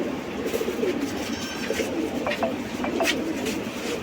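A large pigeon coos close by in a soft, repeated rolling rhythm over a steady background hum, with no one talking.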